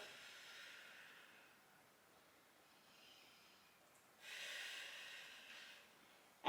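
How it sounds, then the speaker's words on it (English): Slow, deep breath in and out during a Pilates stretch for runners, soft airy inhale and exhale close by, fairly faint, followed by a stronger breath. "Take a big inhale and exhale."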